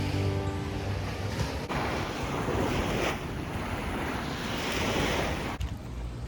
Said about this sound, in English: There's a bunch of boats coming through this little channel right here, so I think that's what's causing all these waves